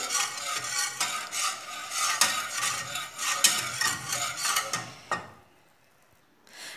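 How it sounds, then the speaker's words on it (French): A banana dessert mixture being stirred in a pot over the heat, with continuous scraping and clinking of a utensil against the pot. The sound is steady and fairly loud, then drops to near silence toward the end. "continuer à remuer sans s'arrêter, jusqu'à épaississement du mélange"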